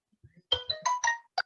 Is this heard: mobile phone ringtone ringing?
yes